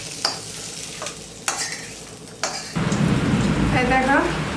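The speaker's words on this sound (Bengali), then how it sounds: "সব কিছুকে মিলিয়ে একটু নাড়াচাড়া করে একটু ভেজে নিলাম" Spices stirred and fried in a pan, with a few scraping spoon knocks followed by a steady close sizzle that grows louder and continues to the end.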